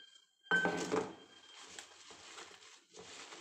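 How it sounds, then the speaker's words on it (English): A spoon clatters and scrapes against a bowl while spring roll filling with sesame oil is mixed, starting with a sharp clink then continuing as soft, faint stirring scrapes. "Ihalo po siya ng maigi, guys."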